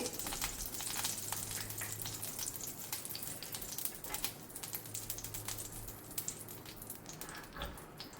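Two tablespoons of ghee heating on a hot tawa for a Mangalorean squid ghee roast, giving a steady, soft crackling sizzle with scattered tiny pops throughout, no voices.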